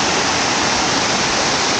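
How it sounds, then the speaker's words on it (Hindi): The Wahumlein waterfall roars up close as water gushes down fiercely, a loud, dense, unbroken rush that fills everything with no voices over it. "देखिए पानी का धार कितना भयंकर तरफ से बह रहा है ये"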